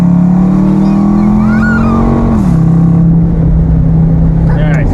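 A car engine revs loudly and close up, holding a droning pitch that dips partway through as it keeps accelerating, with a voice faintly audible underneath; the vehicle is an RT with a Hellcat snorkel air intake installed.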